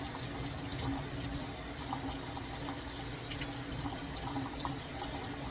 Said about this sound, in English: run it underneath some cold water to take some of the black